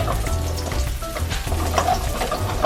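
Garlic and ginger frying in a pan, a steady close sizzle with light crackling and occasional stirring clinks throughout.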